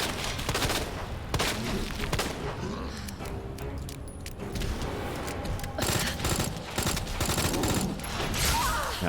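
Dense, continuous gunfire in the video game Resident Evil 2, loud rapid bursts and booms running almost without pause, with a voice talking underneath.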